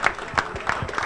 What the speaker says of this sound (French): On fait un tonnerre d'applaudissements à ces trois pilotes